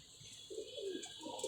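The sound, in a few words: pigeon cooing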